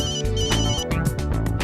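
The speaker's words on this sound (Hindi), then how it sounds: "वेला ने भी फोन किया था, शायद इसी पार्टी के लिए किया होगा" A phone ringtone plays loud and close, a bright repeating electronic melody with pulsing rhythm and no talking over it.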